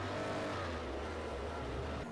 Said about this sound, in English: Want to take an Aston Martin DB11 for a bit of rallycross?